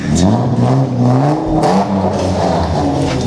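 Nissan R32 with an RB25DE engine revs hard and loud, pitch climbing and falling through several sharp pulls close by, with crowd noise faintly around it.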